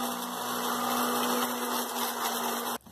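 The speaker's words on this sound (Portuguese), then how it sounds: "Feito isso, vamos bater no liquidificador." A blender grinding dried eggshells whirs with a steady motorized drone and gritty grinding texture, running continuously before cutting off abruptly near the end.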